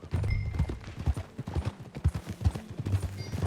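Horse hooves clip-clopping at a steady riding gait on a trail in Red Dead Redemption 2, a close, rhythmic run of thudding hoofbeats with faint background game ambience.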